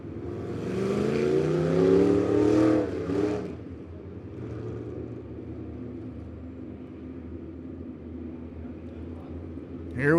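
Dirt track race cars roar off the line as a heat race gets the green flag at Lebanon Midway Speedway, a loud layered engine surge that fades into a distant rumble before another car swells up close.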